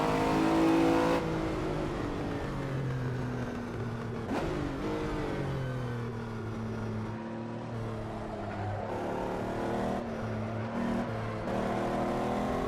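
A Lamborghini 12-cylinder engine revs hard during night racing in Barcelona, a loud, continuous roar heard from close by that rises and falls through gear changes and lifts off the throttle.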